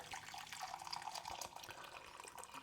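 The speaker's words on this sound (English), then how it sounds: "I'm going to put some boiling water into a jug" Boiling water poured from a kettle into a jug in a home kitchen, a faint, brief splashing trickle of liquid.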